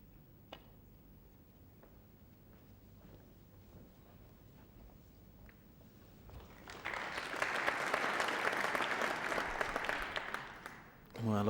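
Applause rises from the audience at a 1995 Masters snooker match between O'Sullivan and Higgins. It swells from soft scattered clapping into a full, sustained round, and a commentator talks quietly beforehand.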